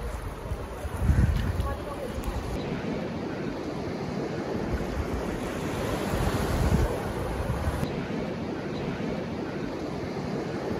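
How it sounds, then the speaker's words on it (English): Steady roar of surf breaking on Stokes Bay Beach, Kangaroo Island, Australia, loud and continuous with heavy wind buffeting the microphone. "We are entering the beach."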